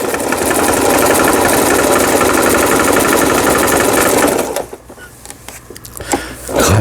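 A Lion 1412 household sewing machine, freshly repaired, runs steadily and loudly at speed while overlock stitching, then stops abruptly, leaving faint clicks and mechanical rustle.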